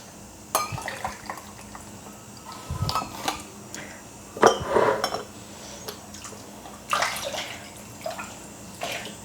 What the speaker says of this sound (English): So I'm going to obviously fill out these jars to about 1/2 inch headspace.